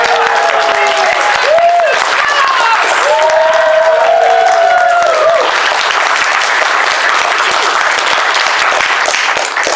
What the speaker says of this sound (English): I like a round of applause